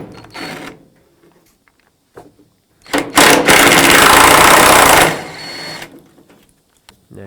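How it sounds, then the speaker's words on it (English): Two 13mm bolts coming out of a tailgate hinge on a 1999-2007 GMC Sierra, heard as short whirring bursts and then one long, loud sustained whine of a power tool, close and with gaps of near silence, no speech. "To remove this tailgate hinge, take off these two 13mm bolts"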